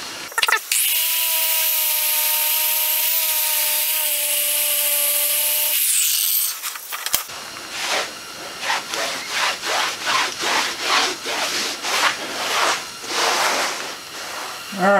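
A power grinder works into the fiberglass transom of a Tango 18 boat before epoxy filler goes on. A loud steady whine with tonal bands runs for about six seconds, then gives way to rougher, pulsing grinding strokes up close.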